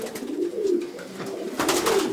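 Pigeons coo in a racing-pigeon loft, a near, clear run of low throaty rolling coos repeating over two seconds with no speech.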